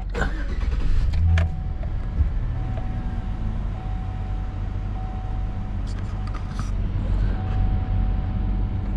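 A 2004 Chevrolet Silverado pickup engine starts and settles into a steady idle, heard from inside the cab as a low continuous rumble with a few clicks and a faint tone, fairly loud.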